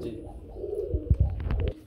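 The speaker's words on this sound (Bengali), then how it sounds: "রব্বানি লাইনের কবুতরের জোড়াটা" Soft, low coos from a pair of Rabbani-line pigeons in a short burst of several throaty notes, close by, with faint background murmur.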